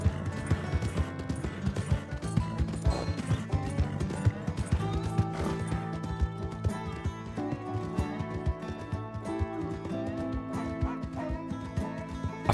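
A horse galloping in Red Dead Redemption 2, with fast rhythmic hoofbeats running steadily under a busy bed of game music and ambience.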